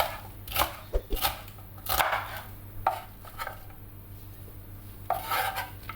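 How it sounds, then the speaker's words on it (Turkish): A knife chops peppers into large cubes on a cutting board, with sharp irregular knocks, a few in quick pairs and others spaced apart, close and distinct against a quiet kitchen hum. "Biberlerimizi de aynı şekilde iri iri küp küp doğruyoruz."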